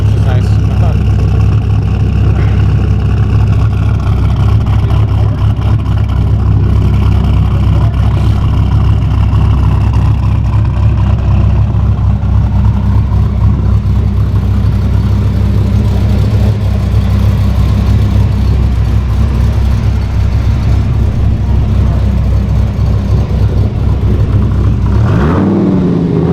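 A GTO's 454 LSX V8 engine rumbles loudly and steadily up close, with a deep exhaust note free of leaks and a sharp rev near the end.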